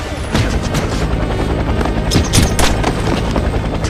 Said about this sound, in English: A cat helicopter?